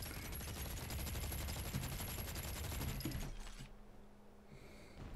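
Rapid automatic gunfire from the video game ARK: Genesis Part 2, a continuous rattling burst for about three seconds that cuts off abruptly, leaving quieter game ambience.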